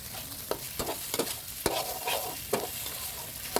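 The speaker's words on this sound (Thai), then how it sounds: "ผัดพริกแกงให้ทรงกลิ่นหอมเลยนะครับ" Curry paste for duck curry frying and sizzling in hot oil in a wok, with repeated scraping stirs of a utensil against the pan at an irregular rhythm.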